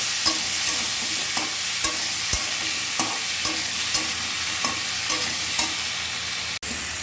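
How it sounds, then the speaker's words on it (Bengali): Beans, drumstick pieces, tomato and green chili sautéed in a pan, a continuous sizzle broken by regular scraping stirs roughly every half second, close and steady, no voices. "মানে বিনস আর সজনা ডাঁটাটা দিয়ে দিলাম, দিয়ে ভালো করে কষাবো।"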